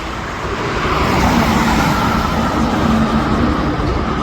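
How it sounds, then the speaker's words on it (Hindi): Dense expressway traffic at dusk on the road toward Prayagraj, a continuous broad roar of passing vehicles swelling slightly after the start and staying steady, heard from nearby with no talk. "फुल ट्रैफिक है एक्सप्रेस वे पे"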